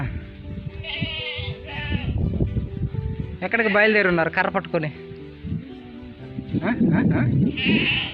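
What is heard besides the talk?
goats bleating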